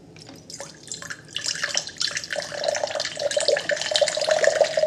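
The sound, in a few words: water pouring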